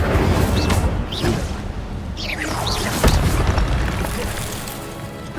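Incendio fire spell blast in Hogwarts Legacy on PS5: a loud, roaring burst with crackling whooshes and booming rumble sustained for several seconds, ending in a sharp pop.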